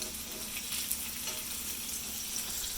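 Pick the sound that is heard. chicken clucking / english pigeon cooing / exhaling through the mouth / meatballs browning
meatballs browning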